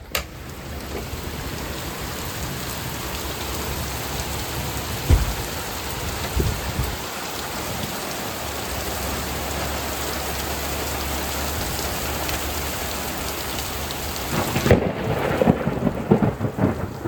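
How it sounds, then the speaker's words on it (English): Heavy summer rain pours steadily with thunder rumbling through it, including a few louder close cracks, as a thunderstorm up North continues almost unbroken for the whole stretch. "In between, we've had heavy thunderstorms."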